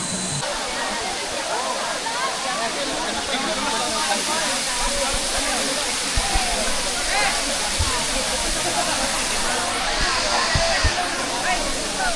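Batlag Falls waterfall roaring as a dense, steady rush of falling water, loud and continuous, with faint voices and occasional thumps underneath.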